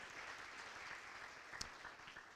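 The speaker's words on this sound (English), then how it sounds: "How about a nice round of applause for all the wives and what they put up with and what they do." Banquet audience at a high school fall awards dinner giving a round of applause, a soft, distant wash of clapping across the hall with one sharper clap near the end.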